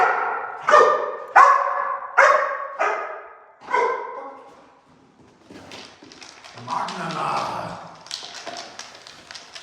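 Dog barking at its owner for food, a series of five or six sharp, loud barks in steady rhythm close by, followed by softer shuffling, tapping and faint whimpering sounds.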